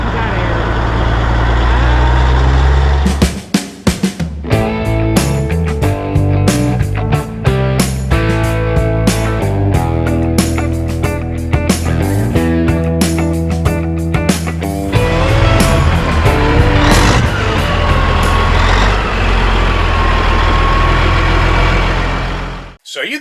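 A Transtar II cabover semi truck rumbles past with a loud, heavy diesel engine note, rising and fading over a long drive-by, its throaty exhaust dominating the roadside scene.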